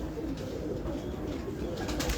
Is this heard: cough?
no